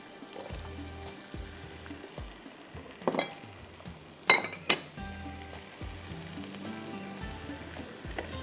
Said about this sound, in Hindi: बस आपने इसको थोड़ा सा इस तरह से मिक्स करना है।